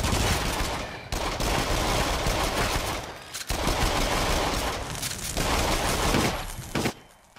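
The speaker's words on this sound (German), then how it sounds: "das geht nur mit Maschinengewehr" Machine gun fire in the VR video game Until Dawn: Rush of Blood comes in loud, continuous bursts that hammer on for about a second or more, broken by a few brief pauses, with no voices.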